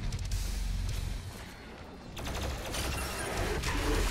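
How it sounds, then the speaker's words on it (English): The BFG fires in Doom Eternal with a loud, rumbling, sustained blast, and a sharper crashing surge breaks out partway through over a dense roar. "Warning. BFG is firing."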